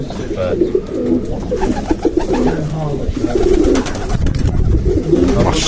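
Soft, repeated dove-like cooing from several birds close by, with a steady murmur of background noise and some talking.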